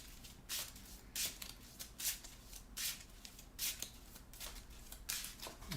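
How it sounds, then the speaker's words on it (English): A deck of Marvel Champions game cards shuffled by hand in a steady series of short, crisp riffling bursts, close but quiet over a low background hum. "We'll shuffle."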